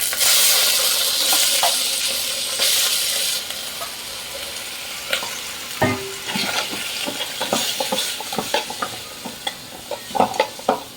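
Liver and garlic sautéing in a pan, stirred with a metal spoon: a steady sizzle with repeated scraping clinks of the spoon against the pan, up close, with no talking.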